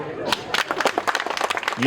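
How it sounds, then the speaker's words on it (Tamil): An audience breaks into quick, irregular clapping, close and fairly loud, with a voice briefly heard over the start. "கைத்தட்டுங்க"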